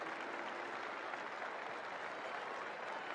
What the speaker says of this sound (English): And a well-deserved round of applause as well.